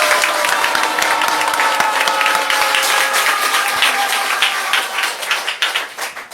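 A large crowd at a Haneulgung religious gathering breaks into dense, loud applause, a continuous wash of many hands that holds steady and then thins and fades toward the end.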